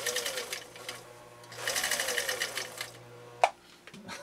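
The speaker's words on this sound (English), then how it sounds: "I'm going to lay down a straight stitch and we will keep on plugging forward" A 1955 Husqvarna Viking Type 21 sewing machine sews a straight stitch in two rapid bursts of rhythmic whirring and clatter, then stops with a brief mechanical clunk.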